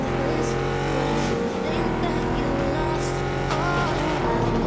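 A race car in a racing video game roars steadily with tire squeals as it drifts, loud and close, while a player talks over the engine.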